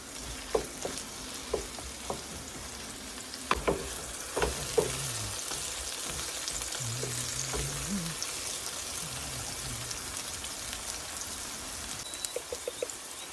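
Brinjal frying in a pan over a high flame, a soft continuous sizzle with scattered pops and spatters, a few clinks of stirring, and a voice briefly murmuring in the background.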